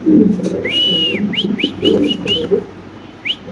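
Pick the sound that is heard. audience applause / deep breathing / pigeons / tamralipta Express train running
pigeons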